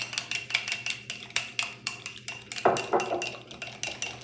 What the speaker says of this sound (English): I'm using a plastic fork to break up the leave-in conditioner.